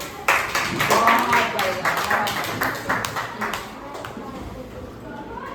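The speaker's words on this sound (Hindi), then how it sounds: "पढ़ के बड़े हो जाओ। तालियां बजाओ।" Children clapping together at a school, a brisk burst of claps that starts loud and trails off, mixed with lively voices and talk throughout.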